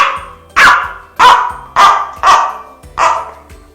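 A string-and-cup sound toy, jerked along its cord, imitates a dog's barking with five loud, rough bark-like bursts at a steady rhythm, close and alone.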